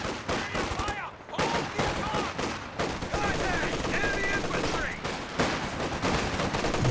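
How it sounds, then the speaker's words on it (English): Dense, continuous machine gun fire rattles through a Company of Heroes 2 2v2 battle, with overlapping bursts and other gunshots in a busy combat mix under a voice. "Machine guns out the back."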